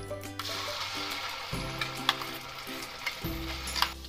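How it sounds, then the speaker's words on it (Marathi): Ground masala sizzles steadily in hot oil in a kadai, a loud continuous frying hiss with occasional spoon taps and stirring, while a low droning hum underneath shifts in pitch. "तेल छान गरम झालेलं आहे. आता आपण जो बारीक केलेला मसाला तो टाकूया."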